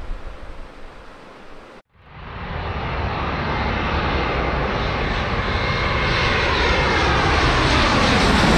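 A heavy Delta jet airliner departs San Diego, its engine roar swelling abruptly after a brief gap and growing into a loud, sustained broadband rumble and whine as the aircraft climbs away.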